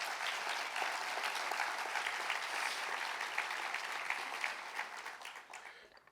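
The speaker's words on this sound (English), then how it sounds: "I'd like a quick round of applause for the entire scientific committee" A conference audience at a restoration and conservation event gives a round of applause for a scientific committee, steady dense clapping that holds for several seconds, then fades out toward the end.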